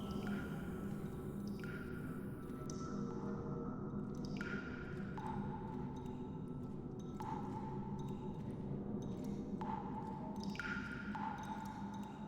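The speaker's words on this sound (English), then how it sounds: "It's neat to have little dropping water to give you like an idea of where you're supposed to go" Water drips in a sewer in the video game Stifled, a series of distinct ringing plops spaced irregularly a second or two apart over a constant low, dark ambient rumble, with no voices.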